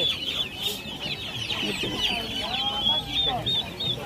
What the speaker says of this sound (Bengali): সব দেশি মুরগি